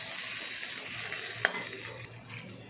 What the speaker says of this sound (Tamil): அவுல் போட்டு நல்லா நம்ம மிக்ஸ் பண்ணி விட்டுறலாம்